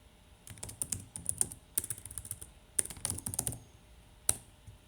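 Keys on a computer keyboard clack in short irregular bursts as a product SKU is entered, close and crisp, with a final sharp keystroke after a pause.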